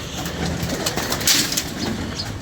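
Paired pigeons cooing in a loft, soft throaty coos rising and falling close by over a low background rumble, with a brief flutter partway through.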